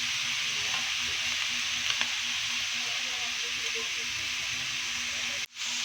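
Squid sautéing in a pan for spicy adobong pusit, a steady broad sizzle and hiss running throughout with a few faint stirring clicks, close and even, with a brief dropout near the end.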